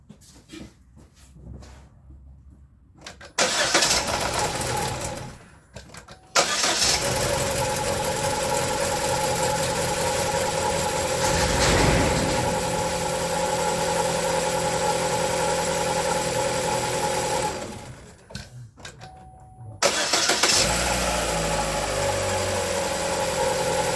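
A 2011-2015 Chevy 1.8L engine, just fitted with a new timing belt, cranks and catches, stalls briefly, then restarts and settles into a loud, steady idle with a ticking mechanical rattle, heard up close.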